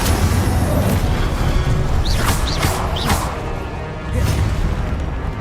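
The Incendio fire spell cast in Hogwarts Legacy, a loud, dense roaring whoosh of flame with booming bursts, sustained without a break for several seconds.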